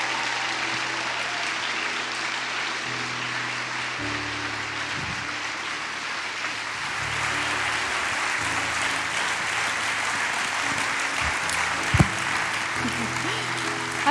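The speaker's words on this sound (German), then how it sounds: "Bitte gebt doch mal all diesen Leitern einen herzlichen Applaus." Audience applause for the leaders at a youth event in a park arena, continuous broad clapping from a large crowd, with faint low music or voices in the background and a sharp knock near the end.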